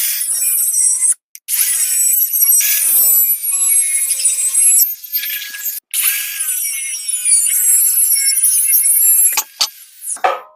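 Loud, harsh grinding and rasping of a cutting tool biting into rusted steel U-bolts on a 1953 GMC truck frame, steady for long stretches with a few brief pauses.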